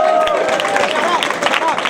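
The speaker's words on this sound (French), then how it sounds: "Un petit main d'applaudissement pour les gens en Guadeloupe" An audience at a live WordUP! battle rap event in Drummondville claps and cheers in a dense, loud burst. Excited voices and babble are mixed through the applause.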